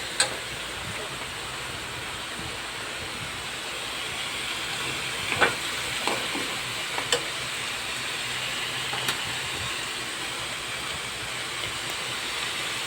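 Chayote (sayote) sautéing in a pan gives off a soft, steady sizzling hiss, faint and continuous, with a few small pops and crackles scattered through it.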